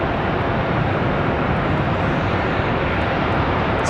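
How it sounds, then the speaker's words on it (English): A CRJ regional jet departs Charlotte Douglas International, a dense, loud engine roar filling the air steadily from start to finish. "Sounds like we got another departure."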